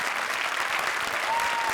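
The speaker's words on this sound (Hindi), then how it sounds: "जोरदार तालियां प्रिंस के लिए।" Audience applause at a televised Hindi comedy stage show, dense steady clapping filling the whole short stretch without a break.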